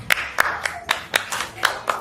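An audience at a parents and caregivers workshop gives a short burst of clapping, several sharp, evenly spaced hand claps close by.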